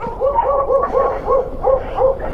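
A dog barks repeatedly in quick, rhythmic bursts close by, outdoors in snow during a TNT Daymak Pitbull snow vehicle ride, loud and clear with no talking over it.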